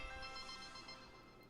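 A phone ringtone sounds quietly during a live stream, a steady tonal ringing that holds through the whole moment without a break.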